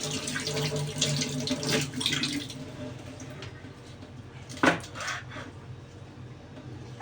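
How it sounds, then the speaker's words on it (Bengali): Tap water runs steadily into a sink while fresh coriander leaves are rinsed, a close, even wash with a few soft splashes and a sharper clatter near the middle. "তো ধনিয়া পাতাটা এখন ধুয়ে নেব।"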